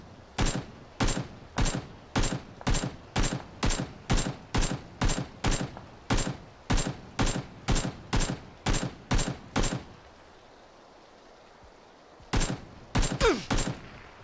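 Rapid gunfire in PUBG, about twenty evenly spaced loud shots in a steady rhythm, a two-second pause, then a short closer burst of several more shots, no talking.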